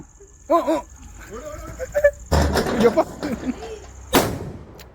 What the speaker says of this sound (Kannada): ಲಕ್ಷ್ಮೀ ಪಟಾಕಿ ಹೊಡಿಯಕ್ಕೆ